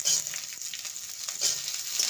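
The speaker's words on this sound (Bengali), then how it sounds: "ফুলকপিটাকেও 2 মিনিট ভেজে নেব" Cauliflower fries in a pan for a navaratna pulao, giving a steady, close sizzle. A couple of light stirring scrapes cut through it. No one speaks.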